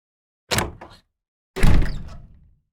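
Two heavy doors shut in turn, each a solid, close thunk with a brief rumbling tail, separated by about a second of silence.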